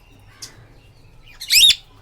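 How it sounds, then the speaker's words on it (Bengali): A cockatiel gives a loud, harsh screech of about a quarter second, close by, after a brief faint chirp, over a quiet outdoor background. "এই যে ককাটেল দেখেছো চেঁচিয়ে যাচ্ছে ওই দেখো দেখেছো তিনি চেঁচাচ্ছেন সারাক্ষণ চেঁচাতে থাকে এইভাবে"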